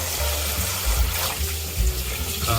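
Water streams from a kitchen faucet set to its rain spray mode, a steady broad hiss with low gurgling underneath, continuous and fairly close, with no talking.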